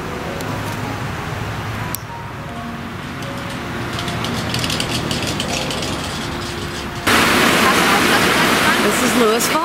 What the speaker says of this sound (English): This is Lewis Falls.